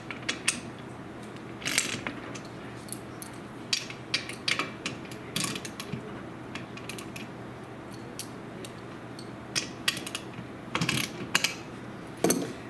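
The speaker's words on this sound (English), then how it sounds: "hold it in place with the big wrench while you loosen it with the socket" Socket wrench ratcheting in short irregular clicking bursts while loosening bolts on a Newman roller screenprinting frame, close and crisp with quiet gaps between strokes.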